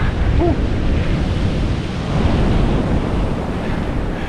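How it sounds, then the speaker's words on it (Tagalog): Strong ocean surf rushes continuously close by at a Los Angeles, California beach, mixed with gusty wind buffeting the microphone. "napakalakas naman ng alon ngayong araw na to."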